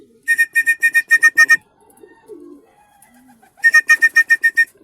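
A racing pigeon arrives at its loft from Tagudin, Ilocos Sur, and two bursts of about eight rapid, sharp, evenly spaced electronic beeps sound close by, likely from the clocking device, with a quiet gap between them.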